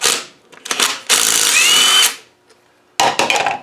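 A power tool spins off rusty cover bolts from an Adwest lightweight TDCi steering box during a rebuild, loud close bursts of whirring separated by short pauses, with ratcheting clicks.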